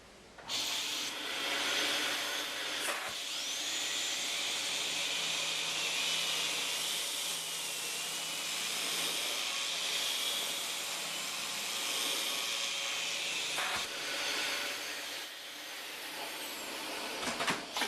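A Dyson DC39 Animal vacuum cleaner running on a bare floor, a steady close whooshing suction hiss that carries on for most of the stretch, with slight shifts as it moves and a few faint knocks, with no one talking.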